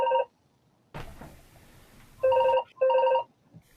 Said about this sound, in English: that's Jenny's phone